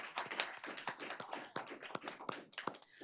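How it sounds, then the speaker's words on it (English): A small group claps at a Prosper Portland board of commissioners meeting, a brief round of applause made of sparse, distinct hand claps at a modest level, with no talk over it. "let's all welcome her with a round of applause"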